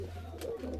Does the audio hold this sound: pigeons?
yes